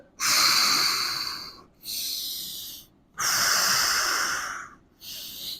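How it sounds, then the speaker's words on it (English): Deep inhalations during a yoga decompression flow, four long airy breaths with short pauses between them, close and fairly loud, with no talking. "Take a breath."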